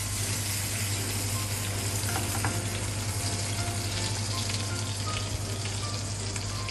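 Rabbit saddles browning in a frying pan give off a close, steady sizzle that holds at an even level throughout, with no voices.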